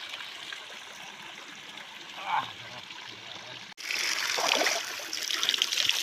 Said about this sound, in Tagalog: Iinom siya sa may bukal.